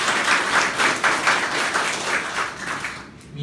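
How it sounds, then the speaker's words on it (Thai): Clapping from an audience at a sales seminar, a busy patter of many hands at close range that holds steady and then thins out near the end. "ปรบมือให้เอเลยครับ"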